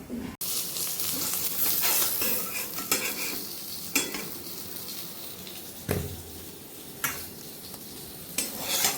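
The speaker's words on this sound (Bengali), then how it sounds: "এখন একটু পটল ভাজা করছি" Pointed gourd (potol) frying in a pan, a loud steady hiss and sizzle with repeated scraping stirs and sharp utensil knocks on the metal pan.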